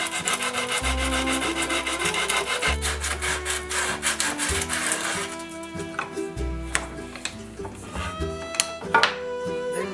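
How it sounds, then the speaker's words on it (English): Someone sands over the edges of a wooden piece by hand. Steady, loud back-and-forth rasping strokes sound close up and continuous, with occasional light knocks of wood. "Sand over these edges."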